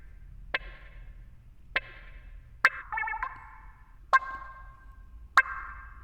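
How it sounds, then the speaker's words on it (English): A synth played in short percussive hits through heavy delay with cranked feedback, reverb and chorus, on a track. Five sparse plucks ring out alone, each trailing a warbling echo tail. "it's a delay that we cranked up and put the feedback really crazy, and some reverb, maybe some chorus effect on there"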